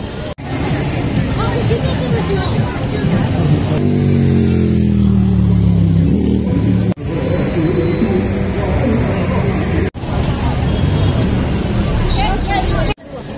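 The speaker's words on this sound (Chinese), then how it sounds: "公交车堵的都过不来。" Busy evening street traffic in downtown Yan'an, with jammed buses and other vehicles rumbling and engines revving nearby, under constant crowd noise and a voice talking throughout.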